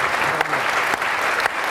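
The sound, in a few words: audience applause for the panel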